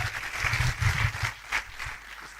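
Audience applause at a Hindi direct-selling seminar, a short burst of moderately loud clapping from a seated crowd that swells and then thins out over about two seconds.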